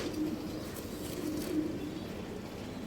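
Soft, low cooing of pigeons, repeated a few times at a quiet level over faint background noise.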